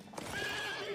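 A horse whinnies with a rising, sustained neigh in an anime episode, loud and close, over a steady background bed of sound with no talking.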